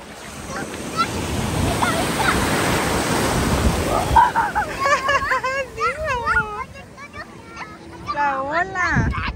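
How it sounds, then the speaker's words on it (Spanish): Ocean waves surge and break on a beach, loud and close, with a broad rush of surf and wind filling the first half, then shouting and excited voices of adults and a child over the washing water. "¡Viene la ola, eh!"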